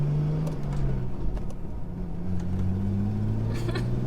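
A Nissan Skyline R33 engine idles and revs gently as the clutch is let out slowly around 1,500 RPM, a steady close rumble whose pitch shifts and climbs slightly, with no speech.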